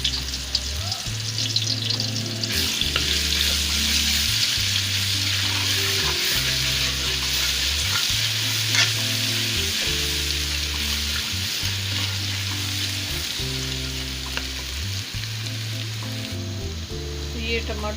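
Garlic and ginger paste sizzles and fries steadily in a karahi for salted beef karahi, a continuous close hiss of hot oil with occasional stirring scrapes, no talking over it.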